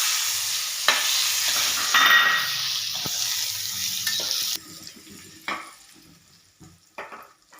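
Boiled eggs fry in hot oil with spice masala, a loud close sizzle and crackle with stirring scrapes that drops sharply midway, leaving quieter sputters and a few clinks.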